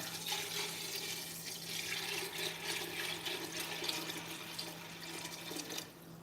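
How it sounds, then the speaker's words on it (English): Water runs steadily from a tap into a pot of hominy corn, a continuous hissing pour lasting several seconds at moderate distance with a faint steady hum underneath. "And then I'm going to add water."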